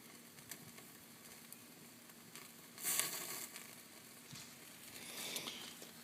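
Bacon sizzles and crackles in a pan on a small Vital stove, a faint, steady frying hiss with brief louder spits and pops, no talk.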